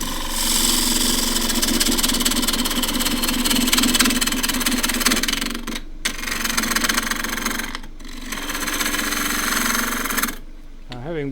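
Wood lathe spinning at 1500 rpm while a half-inch spindle gouge cuts the turning workpiece, a loud, steady, rough scraping roar with two brief pauses near six and eight seconds and a quieter stretch at the end.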